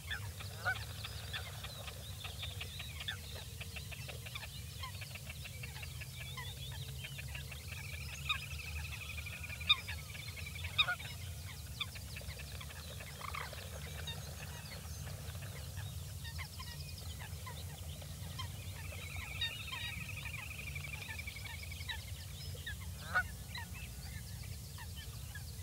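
A flock of Canada geese takes off at Pulborough Brooks, honking repeatedly from a moderate distance over a steady outdoor background, with calls scattered throughout.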